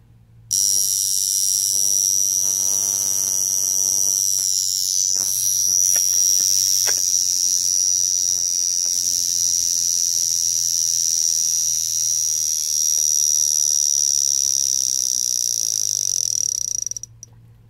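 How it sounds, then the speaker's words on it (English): A Vulcain Cricket GMT Worldtime mechanical wristwatch alarm rings as a continuous, shrill metallic buzz lasting about sixteen seconds before stopping abruptly. "Once it's wound, it's ready to go off."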